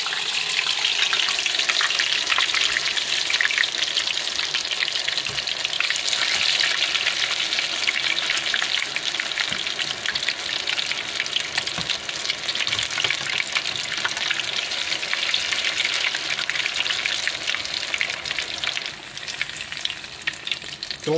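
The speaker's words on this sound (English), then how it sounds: "That's normal when you're frying food." Battered cauliflower buffalo cheese balls deep-fry in hot oil, producing a loud, dense, continuous bubbling sizzle that holds steady with no talking.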